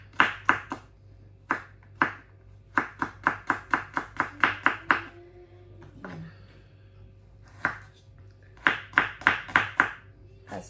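A knife chops garlic finely on a cutting board in quick clusters of crisp, close taps, with pauses between the runs; no talking.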